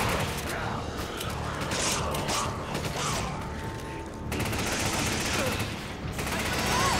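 Enemy gunfire in Resident Evil 5, a steady stream of rattling shots and mechanical clatter running loud and dense throughout, with a brief dip midway before the firing resumes.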